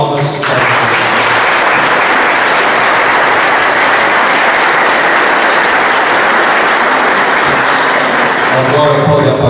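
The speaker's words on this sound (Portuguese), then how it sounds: "Uma salva de palmas." Loud, sustained applause from a large congregation at a Catholic confirmation Mass, continuous and dense for several seconds before tapering off with a voice at the end.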